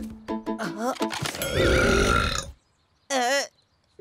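A loud, drawn-out burp mimicking the roar of an overfed brontosaurus, preceded by brief vocal sounds and followed by a short voiced squeal, close to the listener.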